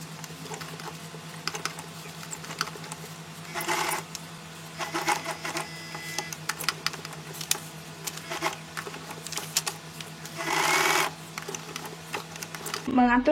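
Sewing machine stitching a straight seam at low speed, a steady mechanical whir with light rhythmic needle clatter, faint and close, with brief louder bursts as the stitching runs.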